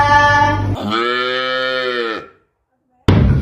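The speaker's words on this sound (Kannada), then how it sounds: "ಗಾವ ಅಂದರೆ ಹಸುವಿನ ಕೂಗು." A cow gives a single long, loud moo, sustained and clear, with brief snatches of talking before and after it.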